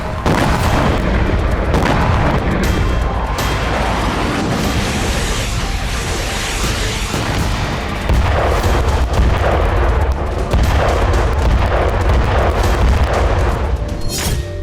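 Heavy booming blasts from Russian fighter-jet munitions rumble one after another, deep and loud, with crackling bursts layered over a continuous low roar.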